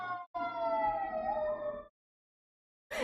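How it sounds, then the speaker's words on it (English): City emergency sirens wail outside a first-floor apartment, a sweeping tone gliding up and down for under two seconds before cutting off into silence. "ignore the sirens again."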